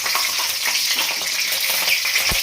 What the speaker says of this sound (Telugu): పచ్చిమిర్చి కలిస్తున్నాను